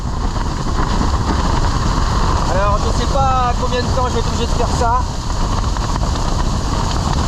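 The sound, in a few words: wind gusts buffeting a tent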